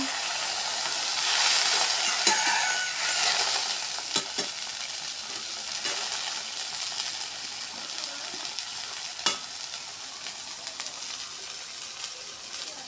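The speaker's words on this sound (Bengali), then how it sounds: "পেঁয়াজ মরিচটা লাল লাল করে ভাজা হয়ে গেছে" Onions and chilies fry with a steady sizzle in a pan, with occasional clinks and scrapes of stirring, close and continuous, no talking.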